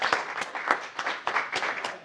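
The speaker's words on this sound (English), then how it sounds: "Great, round of applause," Small audience clapping at a wine and cheese celebration, with distinct individual claps in a loose, uneven rhythm, moderately close and clear.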